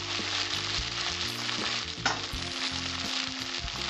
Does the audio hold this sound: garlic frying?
yes